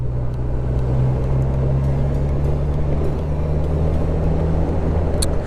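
Honda CB 1000 R roadster motorcycle engine ridden in sport mode, a steady loud low drone with constant rumble and wind noise, no speech.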